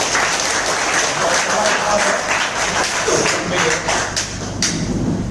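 A roomful of people at a product business meeting in a hotel applaud the leaders with dense, sustained clapping that stays loud and steady throughout, broken by a few thumps.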